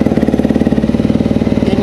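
A Honda CRF250L motorcycle engine running, with a close, loud, steady rapid thumping pulse at idle throughout.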